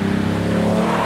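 An Alfa Romeo racing across a test-track finish line, a loud close, steady engine drone holding a strong hum through the brief moment, with no voices.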